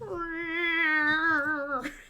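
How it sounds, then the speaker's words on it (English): A cat lets out one long, drawn-out, wavering meow lasting nearly two seconds, close and fairly loud, ending in a brief bump of noise. "That was my cats, Agent Marvel."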